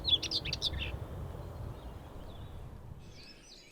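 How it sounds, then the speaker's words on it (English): A common whitethroat sings in Richmond Park: short, scratchy, high twittering phrases at the start, then a quiet pause over faint background hum, with another brief chattering burst at the end. "Their white throats and pretty song make the common whitethroat easily recognisable."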